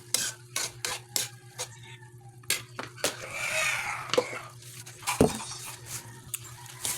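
A spoon stirs potatoes in a pot of corned beef kaldereta, scraping and clinking against the metal in irregular strokes over a low, steady hum, close and fairly loud with no talk.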